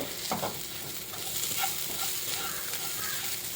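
Spices and vegetables for kothu dosa sizzle steadily in a pan while a utensil stirs and scrapes through them, a continuous close frying hiss with occasional stirring knocks.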